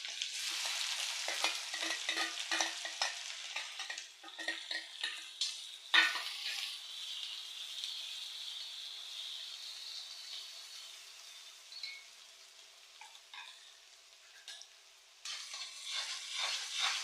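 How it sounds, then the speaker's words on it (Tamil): Small chopped onions frying in oil with green chillies, stirred in a pan for chilli gobi dry: a steady close sizzle broken by repeated scraping stir strokes, quieter in the middle and rising again at the end. "அது சின்னதாக நறுக்கி வச்சுருந்தோம்ல அந்த வெங்காயத்தை போடுறோம்."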